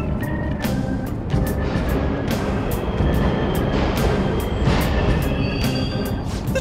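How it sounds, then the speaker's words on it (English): Subway trains from the video game Persona 5 Royal rumble loudly and steadily through a station, with a dense low roar, rattling clatter and repeated sharp metallic clicks, close and alone without talk. "The trains are totally running!"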